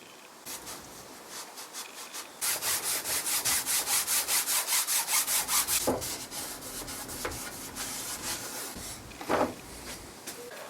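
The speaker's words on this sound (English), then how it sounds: "I'm just going to use some of this walnut restorer finish just to freshen them up" Rapid rhythmic rubbing and scrubbing of walnut restorer finish onto old wooden drawers from a barn, a steady run of quick strokes followed by slower, irregular wiping and a couple of sharper knocks, close and moderately loud.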